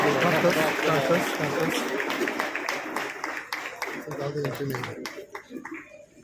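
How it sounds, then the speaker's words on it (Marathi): A crowd at a political rally in Kankavli claps to welcome an arriving guest, a scattered burst of clapping over someone speaking loudly into an amplified microphone. "आपण टाळ्या मारून त्यांचं स्वागत करावं"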